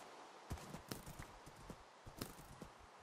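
Hoofbeats of a horse ridden across terrain in Minecraft, a quick uneven clip-clop of sharp thuds spread over a few seconds, fairly quiet and close.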